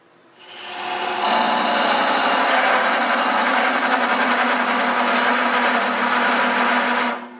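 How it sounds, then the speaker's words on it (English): A rotary burr grinds a slot for a brass pin in a turned cryptex box, a steady, loud, high whine that holds constant for about six seconds with no talking. "at one of these little places, we're just going to take a burr and dig that out."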